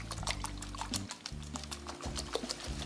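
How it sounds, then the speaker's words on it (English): Chocolate bourbon pecan pie filling whisked in a bowl, a quiet wet sloshing and swishing with quick irregular taps of the whisk, close and soft, with no speech. "So you're just going to give that a nice little whisk."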